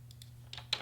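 A computer keyboard is typed on quietly at close range, with a few soft, separate keystrokes followed by two slightly louder taps.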